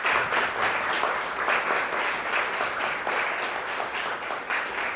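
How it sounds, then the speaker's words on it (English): Audience applause fills a lecture hall after a talk, a dense, even wash of many hands clapping at steady loudness for the full stretch with no voices above it. "Let's give her a big round of applause."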